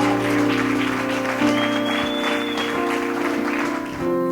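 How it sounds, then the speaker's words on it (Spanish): A church congregation claps along during a televised service while sustained keyboard or organ chords ring loudly, the rapid patter of hands sitting beneath the steady music. "Dele fuerte al Señor las palmas."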